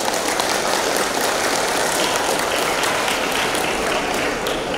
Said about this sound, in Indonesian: layak untuk kita berikan tepuk tangan yang meriah